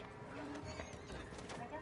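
A horse in Red Dead Online, brief hoof clops and a snorting whinny under a voice speaking.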